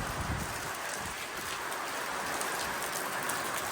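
Sudden heavy rain pours down steadily around the back of a rural New Zealand property, a dense, constant hiss of drops hitting surfaces with no voices.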